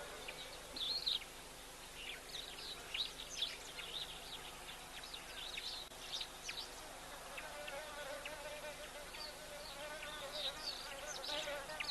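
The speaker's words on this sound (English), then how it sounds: "So many insects around." Dense insect buzzing around a waterhole on a summer day, with flies, bees and wasps droning steadily and occasional louder close passes, with faint chirps mixed in.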